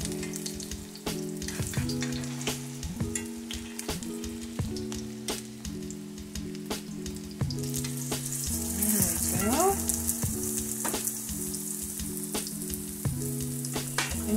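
Salmon croquettes fry in a pan with a steady, crackling sizzle close by, while background music plays throughout and a few scrapes come from turning them.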